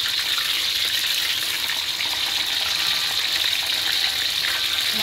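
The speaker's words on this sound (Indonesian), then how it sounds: "ini tahunya sekalian tak goreng." Tofu frying in a pan while cooking Indonesian clear spinach and corn soup gives a steady, loud, even sizzle with no talk.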